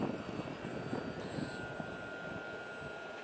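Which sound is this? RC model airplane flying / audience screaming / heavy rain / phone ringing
RC model airplane flying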